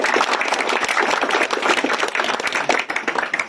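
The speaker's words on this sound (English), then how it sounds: "So, massive round of applause to you." A crowd at a tabletop wargaming tournament awards ceremony applauds with dense, sustained clapping throughout, fairly loud and close.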